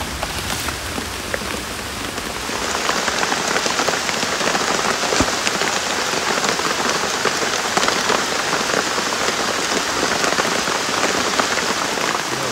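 Steady rain pours down, a dense even hiss of drops striking surfaces, continuous and fairly loud throughout with no voices.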